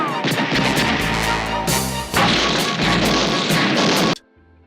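Rapid bursts of loud gunfire rattle continuously with heavy booms mixed in, stopping abruptly at the end, from a 1983 action TV series scene.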